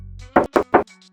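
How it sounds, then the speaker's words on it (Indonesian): Three quick, evenly spaced knocks land on the sheet-metal hood of a 2017 Toyota Avanza E, close and fairly loud, each giving a hollow, tinny thud with no talking over them. "Lalu untuk kapasinya nih, sekarang kita coba ketok ya."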